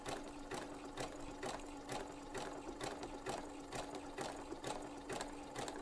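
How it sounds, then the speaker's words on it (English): Sewing machine stitching fabric with a pearls and sequins foot, a steady quick rhythmic clatter of needle strokes at an even pace, close but faint, with no talking. "we'll start sewing."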